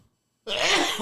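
A single loud, close sneeze bursts out suddenly after a moment of silence and fades over about half a second.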